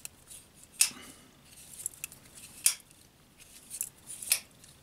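A Buck 110 folding knife, its blade opened and closed over and over, giving three sharp metallic clicks spaced about two seconds apart, with softer scraping between them, close and fairly quiet.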